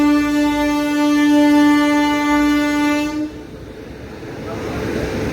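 A train horn blares loud and steady for about three seconds, then cuts off, leaving the rumble of a train rolling along the tracks as it departs Nagercoil Junction station.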